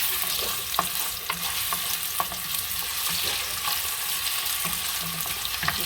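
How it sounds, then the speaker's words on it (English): Potatoes go into a hot pot on medium heat for a Jamaican curry shrimp dish, giving a steady close sizzle and frying hiss with faint stirring clicks scattered throughout. "I'm going to add my potatoes"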